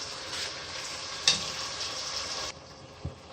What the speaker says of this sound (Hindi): ये मसाले डालकर इसको अच्छी तरह फ्राई करते हैं।